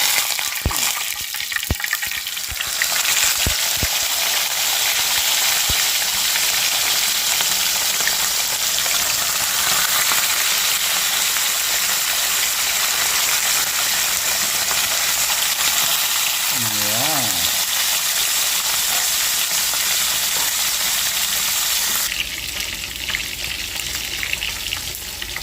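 Fish sizzling steadily in hot cooking oil alongside moringa leaves and aromatics, a loud, continuous crackling fry that runs unbroken from start to finish, with a brief low bubbling moment midway.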